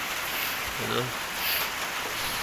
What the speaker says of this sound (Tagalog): sobrang super lakas ng ulan na ngayon dito